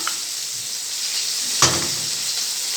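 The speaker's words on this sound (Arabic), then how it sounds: "نبدا كده نقلب الملوخيه كويس يا دوبك بس كده تغلي غلوه واحده مع الجمبري" Molokhia being stirred into a pot with shrimp, a steady close sizzling hiss with one brief louder scrape partway through.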